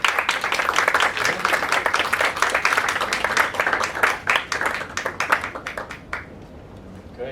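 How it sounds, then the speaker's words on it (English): A live audience claps warmly for the contestants at a sommelier competition, a dense, loud round of applause that holds steady for several seconds before thinning out and fading near the end. "Should we give them a warm round of applause, please?"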